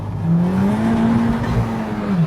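Honda Type R engine revving hard as the car accelerates, its pitch sweeping up and levelling while it holds the throttle, loud and close with no talk.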